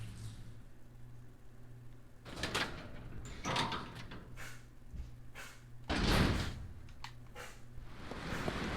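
A door opens in Resident Evil Zero with a few heavy thuds and scrapes over a low ambient hum, the loudest knock near the end, moderately close and with no talking.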